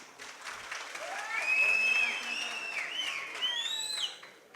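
Crowd applause at a public gathering where Chief Minister Siddaramaiah is speaking, dense light clapping topped by loud, sweeping whistles rising and falling over it.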